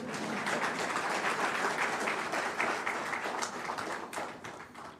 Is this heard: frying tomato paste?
no